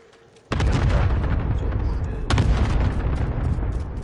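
Loud airstrike explosions in Call of Duty on PS5 hit at about half a second and again near two and a half seconds, each a sharp boom trailing into a long rumbling roar that fills the whole clip.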